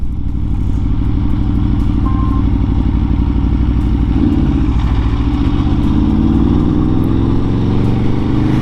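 A 2022 Aprilia RSV4 1100 Factory motorcycle ridden at low speed, its engine a loud, steady, close rumble with a rising pitch sweep partway through as it pulls forward.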